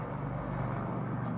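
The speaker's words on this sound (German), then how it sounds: "Ah, es ist ein Hubschrauber vom Krankenhaus." A hospital helicopter flies past overhead, a low, steady droning hum that stays fairly faint and even throughout, with no talking during it.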